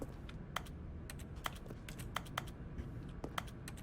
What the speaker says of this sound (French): Et dès que je clique ça fait un bruit de clavier un peu.